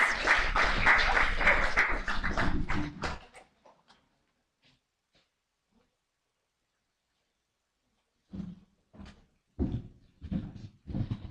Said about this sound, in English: Let's give Mr. Shin a round of applause